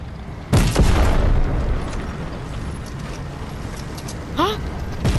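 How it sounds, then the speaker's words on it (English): Heavy booming gunfire in a video game where a tank faces a sedan, one loud blast followed by a sustained rumble and a later short burst, with talk over the top. "What are you shooting at, huh?"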